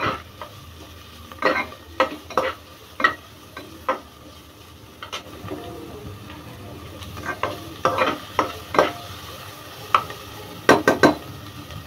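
Beans and carrots stir-frying in a pan, a low continuous sizzle broken by a steady run of sharp scraping clicks as a spatula stirs and knocks against the metal, close and fairly loud with no talking.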